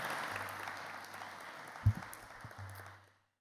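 Applause rises from an audience at an Australian business event: dense, even clapping that fills the room, then fades out quickly after about three seconds.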